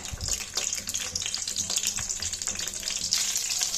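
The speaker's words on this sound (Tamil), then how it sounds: "இந்த கத்திரிக்காயை எண்ணெயில் சேர்த்து நல்லா வதக்கி எடுத்துக்கலாம்" Four eggplants sautéing in hot oil for a kuzhambu give off a steady, close sizzle and crackle that runs without a break from start to finish.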